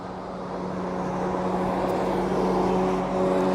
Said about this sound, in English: The road is directly underneath me, so that's why you can hear obviously a little bit of the traffic going by